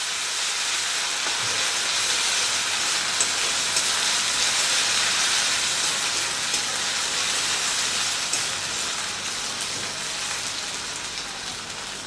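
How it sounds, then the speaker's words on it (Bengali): Ginger and green chili paste frying in oil for a vegetarian chhana dalna gives a steady, loud, dense hiss that holds unbroken for the whole stretch, with no voices. "তো আদা কাঁচা লঙ্কাটা দিয়ে খুব ভালো করে আগে ভেজে নিতে হবে।"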